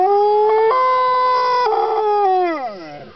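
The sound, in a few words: dog howling along with a siren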